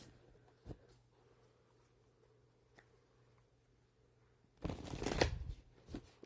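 A deck of tarot cards being shuffled: a dense, close riffling burst about a second long after quiet handling noises and light taps.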